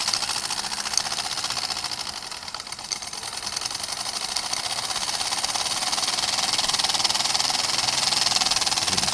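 A small model traction engine speeds up, its motor whirring in a fast, buzzing, rattling drone that grows slightly louder toward the end, with no talk.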